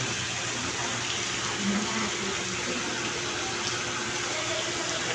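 Steady rushing splash of water pouring from a waterfall into a 6-foot-deep swimming pool at night, loud and constant throughout.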